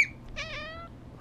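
A black calico cat gives a single short, high meow up close, clear against a quiet room.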